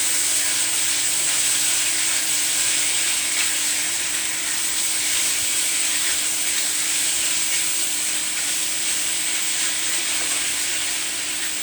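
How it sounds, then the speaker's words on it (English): Bourbon chicken crisping in a hot pan gives a steady, close sizzle and hiss that runs unbroken throughout, with faint stirring scrapes and no voices. "Let that crisp up some more."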